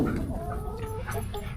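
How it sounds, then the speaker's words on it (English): Chickens cluck softly over a steady low rumble, a few short clucks scattered through the noisy background. "Waylon, you still chasing them chickens, boy?"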